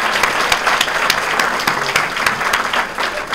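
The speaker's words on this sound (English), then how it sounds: "How about a round of applause for him?" At a chamber of commerce awards event, an audience claps loudly and steadily in a dense, continuous burst with sharp individual claps standing out, and no talk over it.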